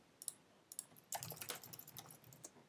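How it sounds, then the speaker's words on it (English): Rapid keystrokes on a computer keyboard during web coding, a few sparse clicks at first, then a denser burst of fast typing close to the microphone with no speech. "now we can start typing"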